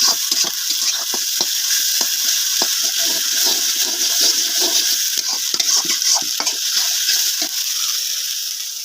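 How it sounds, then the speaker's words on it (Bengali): Chopped onion and spices frying for a village-style duck curry, a loud continuous sizzle with steady spatula scrapes and stirs throughout, close to the pan and without talk. "পেঁয়াজ কুচিটা দিয়ে দেবে তারপরে কষানো হচ্ছে মশলা বাঁধানো হচ্ছে"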